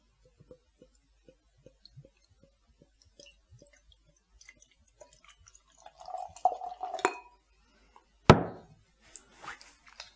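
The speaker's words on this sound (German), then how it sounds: "Dann schütten wir mal ein." Homemade chocolate porter beer being poured into a glass: faint clinks and drips at first, then a short burst of gurgling liquid, one sharp glassy knock, and soft fizzing afterward, all quiet.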